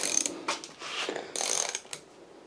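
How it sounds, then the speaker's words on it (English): A ratchet clicks in quick bursts while a wheel nut is removed from a tube-tire wheel, the sharp metallic ticking close and fairly quiet, with short pauses between strokes. "So we're just taking the last nut and bolt out now"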